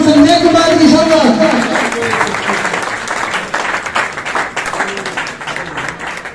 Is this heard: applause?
yes